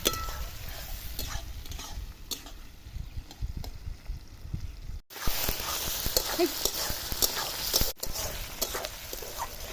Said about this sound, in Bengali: দেখো তোমরা আমার পেঁয়াজ আর টমেটো লাল লাল করে ভাজছি কড়া করিয়া